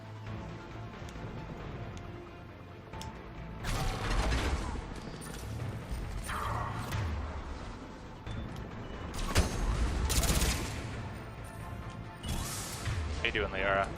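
Grenade blasts and gunfire in Mass Effect 3 on Insanity difficulty, loud bursts and crashing impacts over a busy mechanical battle din with a voice talking through it.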